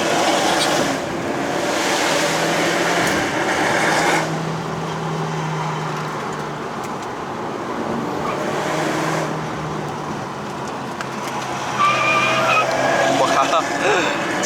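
A Subaru WRX S4 with a 2.0-litre turbo engine and CVT accelerates up a wet mountain road toward Genting in Malaysia, its steady engine drone and road roar rising under someone talking from inside the car.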